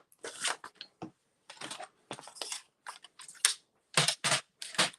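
Card stock for pickleball cards being cut with scissors into 2.5-inch strips: rapid crisp snipping and rustling paper in short irregular bursts, close up, with no talking.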